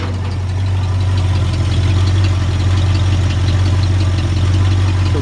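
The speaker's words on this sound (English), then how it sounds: "Take a listen to this engine." A 1951 Ford F1 truck engine idles steadily and close by, a smooth low rumble with a faint belt squeak, running alone with no talk for about five seconds.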